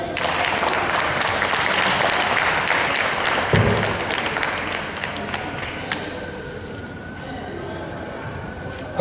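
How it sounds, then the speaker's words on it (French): An audience at a breast cancer awareness event applauds, dense sustained clapping that gradually thins and softens toward the end. "Applaudissements"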